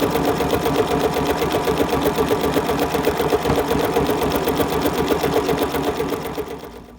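A sewing machine runs steadily at speed while stitching a zigzag for machine appliqué, its rapid even needle rhythm loud and close, slowing and fading only in the last moment.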